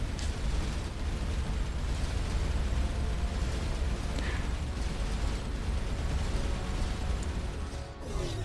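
A nuclear missile launched in the space game Starcom Unknown Space erupts into a sustained, loud, rumbling explosion that roars on for several seconds with crackling debris layered through it.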